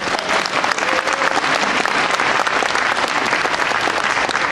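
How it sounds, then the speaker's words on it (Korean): Dense, sustained applause from a large audience at a Korean book talk show event, steady and loud throughout with no pauses. "박수 한번 해주시기 바랍니다"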